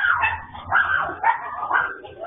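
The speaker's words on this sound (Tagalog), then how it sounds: "Pati mga aso nagtatahulan." Several dogs in Rizal, Philippines, bark and yip in a steady, overlapping chorus, fairly close and loud, with brief whimpering tones mixed in.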